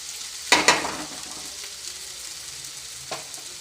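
Potato curry seasoned with salt fries in a pan, a soft continuous sizzle broken by a few sharp spatula clinks and stirring scrapes, close by.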